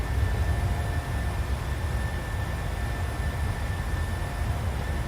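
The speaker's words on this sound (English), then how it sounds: "Gotta love that climb performance of these small 737s" Boeing 737-700 climbing after takeoff in the PMDG flight simulator, a steady low engine roar with broadband rushing noise and a faint constant whine, unchanging and without speech.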